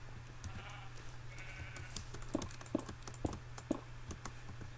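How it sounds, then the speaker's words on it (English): Several Minecraft sheep bleat in short, nasal calls over a low steady hum, with a few sharper clicks scattered between them. "I hear a bunch of sheep."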